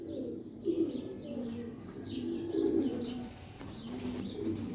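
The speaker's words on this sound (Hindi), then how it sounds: "बहुत ही शानदार कमगर कबूतर है" Soft, low coos from a Kasuri Kamagar pigeon repeat in short rounded phrases close by, with faint chirps and light background noise between them.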